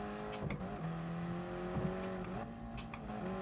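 A race car engine in Gran Turismo Sport drones with shifting pitch, clicks and brief revs over a steady mechanical hum.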